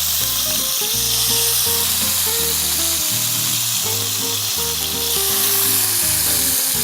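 Food goes into a thick frying pan already heated with salted shrimp, giving a steady, loud sizzle throughout with loud background music over it and no talking.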